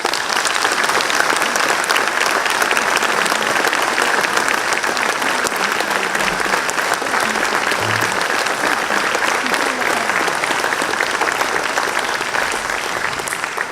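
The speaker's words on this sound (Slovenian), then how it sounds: "uvodoma namenimo aplavz vašemu staremu novemu županu" An audience at a municipal celebration marking twenty years of the Žirovnica municipality applauds the mayor, producing dense, steady clapping from a large crowd that fills the whole stretch at an even loudness.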